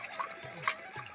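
Tap water runs onto a tumbler being washed, a soft steady splashing trickle heard close up with faint clinks.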